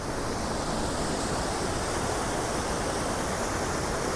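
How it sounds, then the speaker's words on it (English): Waterfall on the Sugar River, a steady broadband roar of falling water filling the whole clip without a break, close and loud with no voices. "It smooths out, and then we have another waterfall here."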